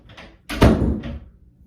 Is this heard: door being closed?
yes